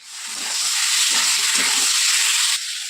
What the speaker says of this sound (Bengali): চিকেনটা কিছুক্ষণ ভাজার পর